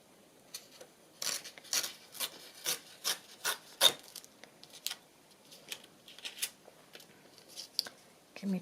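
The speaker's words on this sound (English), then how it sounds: "And I think I'm just going to trim a piece of that off." Scissors trimming a piece off craft material, a series of separate crisp snipping and rubbing strokes, close and fairly quiet, irregularly spaced with short pauses between them.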